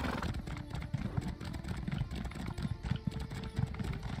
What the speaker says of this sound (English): I probably should have my horse